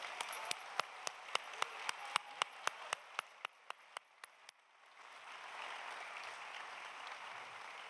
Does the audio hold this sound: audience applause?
yes